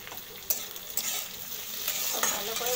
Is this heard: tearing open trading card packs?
no